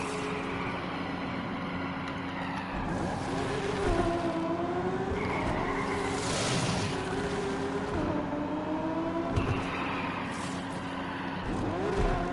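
A car in the Need for Speed Unbound racing game braking to a full stop, with a steady engine drone, tire noise and skidding rolling on without pause under a backdrop of music, no voices.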